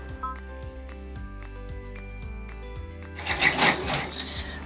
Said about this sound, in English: I'm going to go ahead and start with the placement stitch.